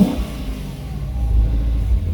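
A 2020 Lexus RC F engine fires up on push start and revs, a loud, close low rumble that swells and settles under the exhaust with no talk.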